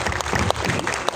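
Audience applause at a gala film premiere, a brief dense wash of clapping that stays steady and fairly loud throughout.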